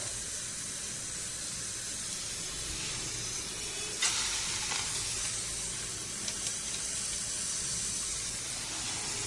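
Food frying in hot oil makes a continuous fizzing hiss, with a louder spitting burst midway and a few small crackles, heard alone without talk.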